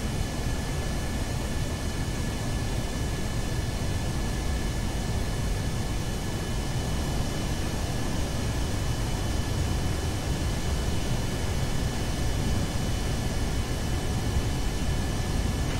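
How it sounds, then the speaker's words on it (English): A steady, rushing engine roar from a Kerbal Space Program spaceplane taking off holds constant from start to finish, with no voices and no breaks. "And we're off. We're up in the air."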